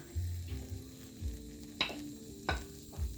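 Wheat flour tortilla laid on a hot buttered pan, a soft steady sizzle with a few light clinks and taps of utensils against the pan, close and quiet, with no talking.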